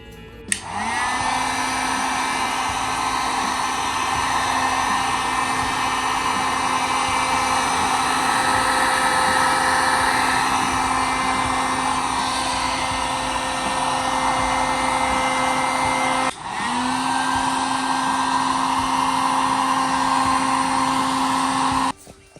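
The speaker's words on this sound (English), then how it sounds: "After I heat it with the heat gun, I put it in the dryer on high heat for 10 minutes" A heat gun runs steadily to melt Otter Wax into a Carhartt shirt jacket, a loud continuous blowing whine with a steady hum that cuts off briefly and restarts partway through, with no talking.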